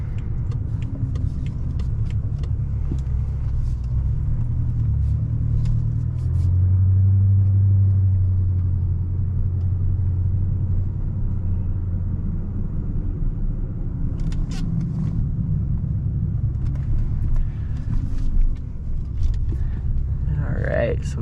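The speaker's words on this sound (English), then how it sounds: "I like to leave the valves open because I like to hear the turbos" A 750hp BMW M5 with its exhaust valves open hums in a low, steady rumble while cruising through town, the engine and turbos swelling slightly at times, with interior road noise throughout.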